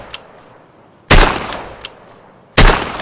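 Two loud, sharp pistol reports from a Rhino revolver in Escape from Tarkov, about one and a half seconds apart, each with a short decaying tail, over quiet background with a few faint distant pops.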